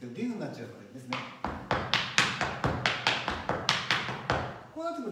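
A tap dancer strikes the floor in a steady run of about a dozen sharp metallic dig taps, evenly spaced and close up, with no talking over them.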